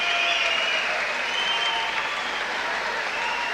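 A boxing arena crowd in Scotland applauds at a 1995 professional fight, a steady, dense wash of clapping that fills the hall for the whole stretch without letup.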